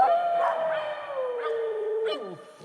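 Dogs at a church blessing howl in a long, wavering, drawn-out cry with a few sharper yips layered in, moderately close and without talk over it.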